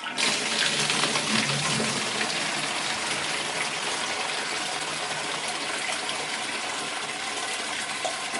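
Fresh water runs steadily from a tap in a garage in a continuous, close gush that holds at an even level throughout.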